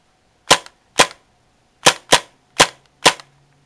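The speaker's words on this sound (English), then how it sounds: "we're out of BBs, as you can see, but it's almost close out of CO2, so might as well dry fire it" A Tactical Force TF-11 CO2 airsoft gun dry fires with no BBs loaded, six sharp, loud snaps in an uneven rhythm, each clean and close, with no talk.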